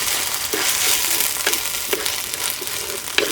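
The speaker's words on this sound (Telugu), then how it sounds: "ఇప్పుడు కోసి పెట్టుకున్న 2 టమాటా ముక్కలు, అలాగే చీలికలు చేసుకున్న 7 పచ్చిమిరపకాయ ముక్కలు కూడా వేసేసుకుని బాగా కలుపుకుందాం" Tomato and green chilli pieces tossed into a frying cauliflower and chicken curry, a close, loud sizzle broken by repeated spoon-scraping stirs every half second or so, with no talking.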